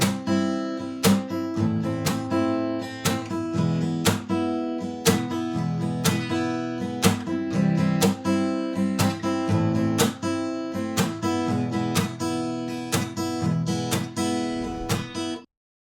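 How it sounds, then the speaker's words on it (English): An acoustic guitar is strummed with sharp percussive slaps between chords, giving a steady rhythmic pattern of ringing chords punctuated by regular dry hits, played close and alone. "the last strumming technique I learned was the percussive strum"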